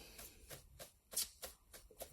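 A deck of cards shuffled by hand during a tarot-style reading, giving a series of eight or so quick riffling bursts at a steady rhythm, close and moderately loud, with no voices.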